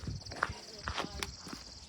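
Horse hooves clip-clop at a walk, unhurried and fairly close, as the horse is led back out to pasture on a farm; a few quiet, irregular steps sound over faint background noise.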